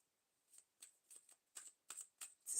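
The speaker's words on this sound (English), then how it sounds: "And now I'm going to draw from the animal cards to see" Animal oracle cards being shuffled by hand, a series of about seven short crisp riffling bursts at an even rhythm, close and quiet with no talk.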